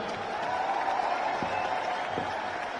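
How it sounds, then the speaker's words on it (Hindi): Rally crowd at an Azad Samaj Party gathering in Delhi, a steady, fairly distant wash of applause and crowd noise holding at an even level throughout. "एक बार इनके लिए भी जोरदार ताली हो जाए।"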